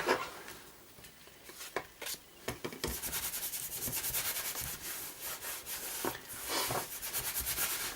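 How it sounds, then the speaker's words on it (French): Stamp block being rubbed clean by hand, producing soft, close scratchy brushing strokes in irregular bursts that turn more continuous midway, fairly quiet. "Je le frotte pour enlever éventuellement les saletés qui sont dessus."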